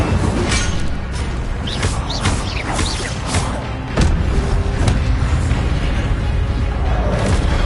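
The Incendio fire spell cast in Hogwarts Legacy produces a dense, roaring burst of flame with booming, crackling impacts. It is loud and sustained, with a sharper thump partway through.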